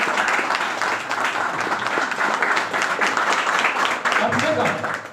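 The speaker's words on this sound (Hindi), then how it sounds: "एक बार जबरदस्त ताली दीजिए।" Loud, dense audience applause fills a workshop hall, steady clapping from a large crowd sustained throughout without pause.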